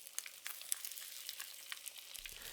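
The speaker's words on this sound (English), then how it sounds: "sear the chicken in 2 or 3 batches" Chicken pieces sear in a splash of hot neutral vegetable oil in a large frying pan, giving a steady close crackling sizzle with scattered sharp pops, heard alone.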